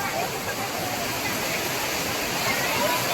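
Water rushes steadily at Malangad waterfall during the monsoon, a dense, continuous broadband roar with no breaks, loud and close throughout.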